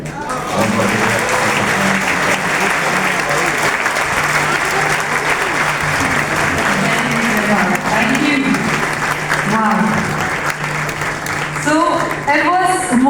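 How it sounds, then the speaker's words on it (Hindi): An audience claps loudly and steadily at a speaking event, with dense sustained applause and a voice talking over it in places. "एक बार फिर से जोरदार तालियां इनके लिए होनी चाहिए।"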